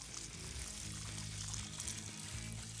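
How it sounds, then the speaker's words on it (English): Low-pressure water pours steadily over a dirty cold air intake filter during rinsing, a continuous close splashing wash with no talking. "you want to take low pressure water inside,"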